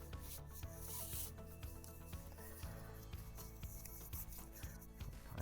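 Lacing up a lace-up ankle brace: a steady stream of close rubbing and scraping as the laces are pulled through and tightened, continuous and fairly quiet, with no talking.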